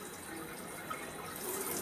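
Water running steadily from a tap while a toddler's curly hair is rinsed at wash time, a soft continuous splashing hiss that swells slightly toward the end.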